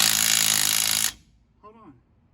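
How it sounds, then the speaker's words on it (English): A DeWalt impact wrench hammers at rusted wheel bolts on a 1951 Ford F1. A loud, dense, steady rattling burst lasts about a second and stops abruptly, followed by a brief faint voice. "we're gonna put to test the DeWalt 12 bolt impact"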